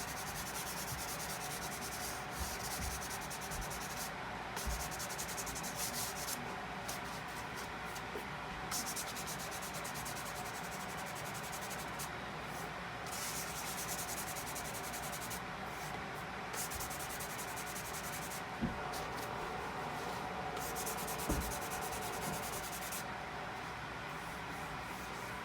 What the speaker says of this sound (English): Just that little bit of sanding.